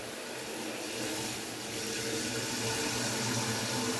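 Water from an EcoShower runs into a gallon jug in a steady, even rushing stream, a constant broadband hiss with a faint low hum beneath, no voices over it.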